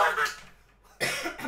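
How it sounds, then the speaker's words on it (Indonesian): A person coughs, two loud harsh bursts separated by a short quiet gap, close to the listener, with no other voices. "Sampai batuk."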